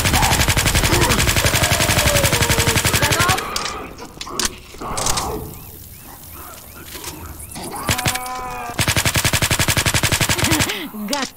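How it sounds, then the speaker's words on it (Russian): Rapid automatic gunfire from survivors shooting at the Tank in Left 4 Dead 2, loud sustained bursts at the start and end with a quieter gap of scattered shots and clatter in between. "Эй, вы, стреляйте по танку!"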